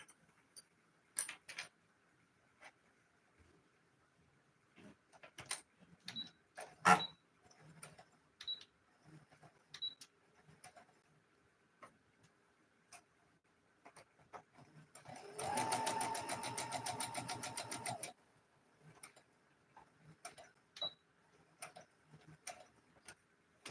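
Sewing machine stitching the notches of a satin scrub cap: scattered ticks and handling clicks, then a steady rapid whirring run of stitching for about two seconds, then more sparse clicks and taps.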